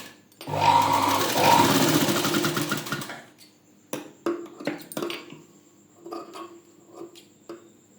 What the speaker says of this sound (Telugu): ఇలా ఫ్రిల్స్ స్టిచ్ చేసుకోవాలండి.